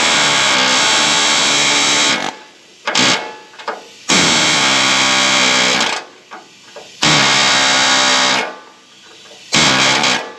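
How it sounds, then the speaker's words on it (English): Air hammer chiseling rivets off the frame of a 1955 Chevy truck, loud rapid buzzing bursts of about two seconds each, separated by short pauses with clanks and taps. "Now I'm going to just chisel it off with the air hammer."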